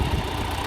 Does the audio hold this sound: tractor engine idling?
yes